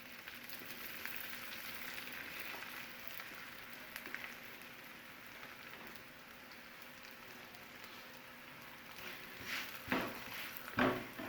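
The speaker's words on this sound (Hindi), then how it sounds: "इन चारों पराठों को एक एक साइड से मैं सेंक लूँगी" Egg cheese parathas roast one side at a time in a hot pan, giving a soft, steady sizzle throughout with a few sharper crackles near the end; no one speaks.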